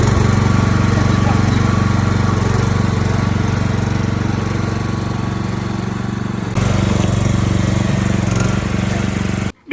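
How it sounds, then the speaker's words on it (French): A small Raptor model vehicle drives over fishing tackle boxes, its motor giving a loud, continuous buzzing drone up close, with a brief dip near the end. "c'est parti pour rouler sur les boîtes avec le Raptor."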